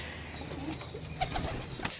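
Pigeons at a bird sale in Sarai Alam give soft, low cooing calls with faint rustles and brief flutters, close by, over a steady background hum and without talking.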